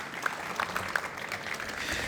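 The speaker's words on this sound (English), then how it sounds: "Let's give them a big round of applause and a big thank you." Scattered audience applause at an airport ticketing lobby opening event, a modest round of clapping with a few distinct claps standing out over a steady background wash.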